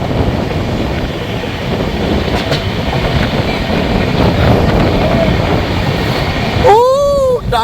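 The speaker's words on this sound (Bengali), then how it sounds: "আমাদের ট্রেন এখন ডানকুনি ক্রস করছে।" The Sealdah–New Delhi Rajdhani Express runs at speed on its rails, heard from inside the coach as a loud, constant rumble with rhythmic wheel clatter, ending in a rising metallic squeal near the close; a faint voice may pass under it.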